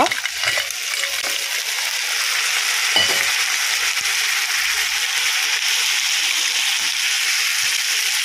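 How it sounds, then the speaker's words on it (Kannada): Cleaned crab pieces go into a hot frying pan for Mangalore-style crab sukka, setting off a continuous loud sizzle with a few stirring scrapes and clunks, close and steady throughout, with no voices. "ಇಲ್ಲಿ ಕ್ಲೀನ್ ಮಾಡಿಟ್ಟಿರುವಂತಹ ಏಡಿ ಇದೆಯಲ್ಲ, ಕ್ರ್ಯಾಬು, ಅದನ್ನು ಹಾಕ್ಕೊಳ್ಳುವ."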